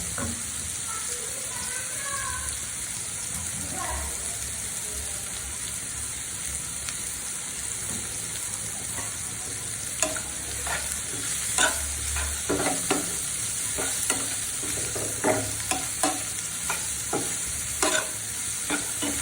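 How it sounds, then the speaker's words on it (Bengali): Bitter gourd with turmeric and salt fries in a pan, a steady close sizzle with spatula scrapes and stirring clatters that grow more frequent toward the end, no talk. "এখন আমি একটু সময় নিয়ে করলাটা ভালোভাবে ভেজে নিচ্ছি।"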